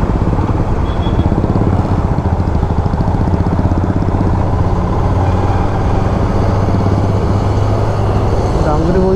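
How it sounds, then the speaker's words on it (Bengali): Heavy, congested road traffic near Sonarpur in morning rush hour, heard from a moving motorcycle on a Howrah-to-Kalna ride: a steady loud engine drone and road rumble with traffic noise throughout, nearly constant in level. "প্রচণ্ড ট্রাফিক, তার মধ্যে আমরা সোনারপুরে এসেছি"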